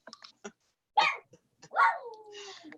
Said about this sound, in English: Mine are barking